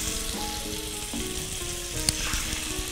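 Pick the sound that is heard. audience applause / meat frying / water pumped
meat frying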